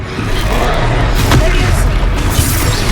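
Confringo fire spell blasts in the Hogwarts Legacy video game: loud, deep booming rumbles rolling continuously with a sharp crack near the middle, mixed with game voices.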